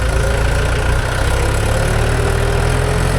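A line of tractors, including Mahindra, Swaraj and Massey Ferguson, sits idling in a queue to load lake soil, a loud, steady low diesel chug with a constant drone.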